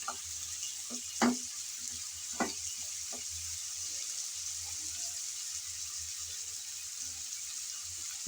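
Winter vegetables frying in oil give off a soft, steady sizzle, with a few brief knocks from stirring early on; no one speaks.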